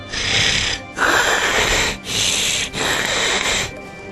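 Loud, rasping snores repeat in three or four long breaths, each a rough sustained drone separated by short quiet gaps, close to the listener.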